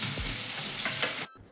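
Garlic sizzling in hot oil with cumin, asafoetida and curry leaves for a sambar tempering. A dense, close, continuous frying hiss with a few stirring scrapes cuts off abruptly near the end.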